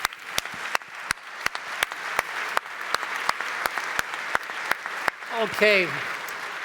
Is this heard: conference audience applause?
yes